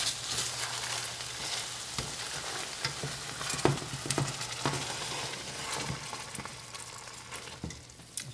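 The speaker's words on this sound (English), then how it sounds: "Give it a quick stir." Sauce sizzles and bubbles in a pan on a home stove while being stirred, giving a steady close frying hiss with scattered clicks and scrapes of the utensil against the pan, no voices.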